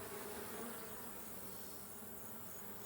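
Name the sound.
honeybees buzzing at opened hive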